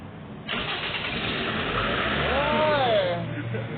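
A Toyota Altis car engine cranks and catches, runs briefly with a rising rev, then dies away, heard up close in a repair garage with low background noise.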